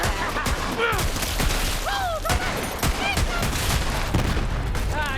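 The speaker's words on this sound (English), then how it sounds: "Shots coming your way!" Rapid gunfire bursts from Borderlands 3 crackle loud and near across the whole stretch, with rising synthetic whistles and thuds mixed into dense, continuous combat noise.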